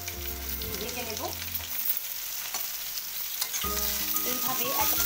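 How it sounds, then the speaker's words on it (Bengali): Pieces of pointed gourd (potol) sizzle and fry in a little oil in a home kitchen, a steady crackling hiss with stirring scrapes, no talking. "এই পটলগুলো কিন্তু আমি এবার ভেজে নেব।"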